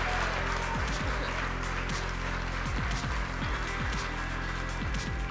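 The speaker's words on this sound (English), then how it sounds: "Huge round of applause there" A large audience applauds the 2021 Investor of the Year winner at the AIBC Dubai awards ceremony, with steady, dense clapping that carries through the whole stretch over a low musical bed.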